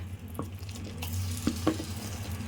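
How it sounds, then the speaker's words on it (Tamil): Banana pieces frying in ghee give a soft, steady sizzle near the microphone, with a few light clicks and taps of a utensil against the pan. "நெய்யில் போட்டு கொஞ்சம் நேரம் ஒரு 5 நிமிஷம் நல்லா கொஞ்சம் அப்படியே லைட்டாக வந்து ஃப்ரை பண்ணலாம் ஃப்ரெண்ட்ஸ்"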